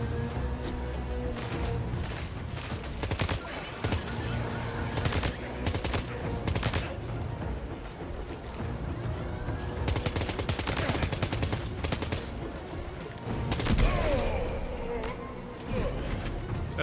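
Gunfire at a building in Death Stranding 2, repeated bursts of shots and crashing impacts scattered across the stretch, with a voice speaking between them.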